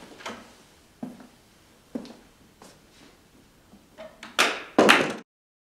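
An old wooden door of a historic inn opening, with a few soft knocks and creaks spread out, then two louder thuds and rattles near the end as it swings and shuts, close by with no one speaking.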